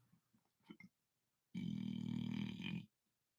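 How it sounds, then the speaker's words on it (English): A single long, deep, rumbling burp sounds close to a microphone during a live stream. It lasts over a second and follows a few faint, soft noises. "my microphone picked up that burp"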